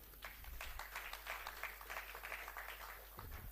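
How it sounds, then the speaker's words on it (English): Audience applause at the launch of a national student budget forum: steady, continuous clapping from a crowd, filling the whole stretch at an even level before easing slightly at the end. "Continuous clapping."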